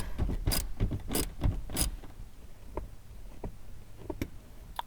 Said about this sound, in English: you can just double wrench this bolt loose